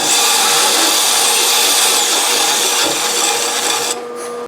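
A drill-mounted deburring tool grinds against the inside edge of a pipe during a Pentair Big Blue filter install, giving a steady, close, loud scraping whir that runs continuously and then drops off.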